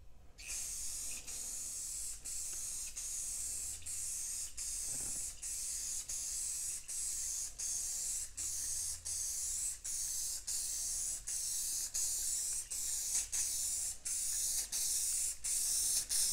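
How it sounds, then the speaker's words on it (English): An aerosol can sprays in a long series of short, steady hissing bursts, close up, with brief pauses between each spray. "I'm already running out of this spray."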